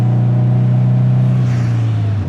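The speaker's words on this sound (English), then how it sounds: "The car sounds really good though." A built 2005 Subaru STi engine rumbles at a steady low pitch, loud and close, with a slight shift in tone near the end as it settles.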